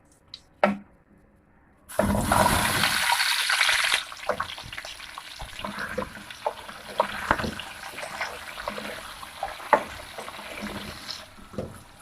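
Potatoes dropped into hot oil with frying whole spices give a sudden loud sizzling burst that settles into softer crackling with scattered pops and clicks.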